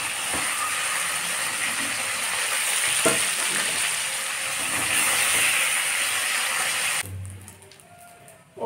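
Pieces of chicken fry in hot oil in a wok, a loud, constant sizzle with intermittent stirring knocks, close by, before the frying sound drops away abruptly near the end.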